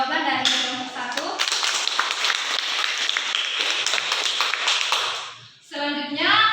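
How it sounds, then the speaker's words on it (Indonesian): A classroom group claps for fellow students after their answer during a physics lesson on sound waves, a dense burst of applause lasting several seconds, with voices before and after it. "Berikan aplaus untuk jawaban dari kelompok 1"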